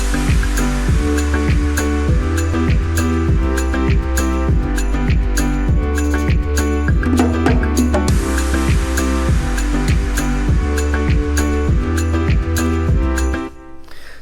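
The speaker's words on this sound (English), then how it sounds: "the drop I'm going to be building over sounds like this." Tropical house drop with no lead melody: a steady four-on-the-floor kick, pumping chords and bass, loud and continuous, ending in a brief fade with reverb tail.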